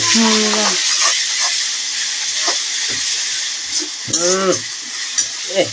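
Ginger and garlic fry in a hot pan with onion, a steady loud sizzle while a spoon stirs with occasional scrapes, and voices talk over the cooking.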